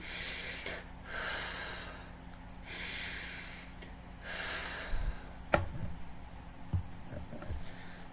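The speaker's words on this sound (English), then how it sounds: "We're going to place our hands on our heart and take 3 deep breaths." Three deep breaths are drawn in and let out slowly during a self-care healing session. Each long airy inhale and exhale comes close and soft, followed by a few small rustles and taps.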